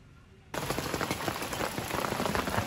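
Rain at a lakeside campsite at Mapanuepe Lake during car camping begins suddenly, then settles into a dense, steady patter of drops hitting a surface nearby.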